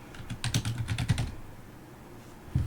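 Quick clicking keystrokes on a computer keyboard, a short burst of about ten close taps in the first second followed by a pause and one final key press.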